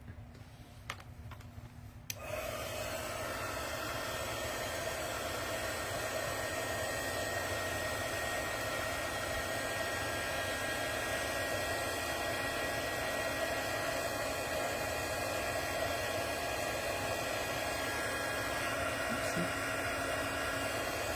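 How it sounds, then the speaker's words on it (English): A hair dryer switches on after a brief quiet moment and then blows continuously with a steady, whirring hiss. "I'm going to get the dryer again because there is water in it"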